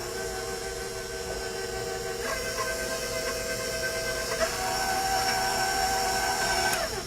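An electric hand mixer whirs steadily, blending the first half of the flour into a peanut butter cookie dough mixture, with the motor pitch shifting slightly a few times as the beaters work through the thick dough.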